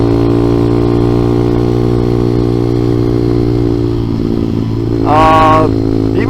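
Honda CT70 clone motorcycle fitted with a ZS190 engine running steadily throughout, a loud, continuous close-up engine drone that rises briefly in pitch near the end as it revs.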